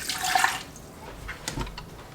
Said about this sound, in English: So I'm gonna carefully dump it in the side and add a couple cups of water.